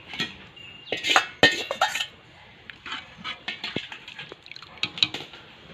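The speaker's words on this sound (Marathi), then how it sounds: "आता आपण जे चिकनचं सूप ठेवलं होतं ना ते मी ह्यामध्ये टाकून घेणार आहे" Chicken soup is poured into masala fried in oil in a pot for a village-style chicken rassa cooked on a wood stove, with clinks of metal utensils against the pot and a soft splashing pour, close and intermittent.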